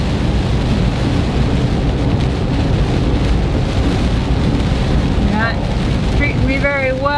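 Rain and road noise fill the cab of an RV cruising on the freeway, a steady dense wash with wind buffeting throughout, and a voice briefly rises near the end.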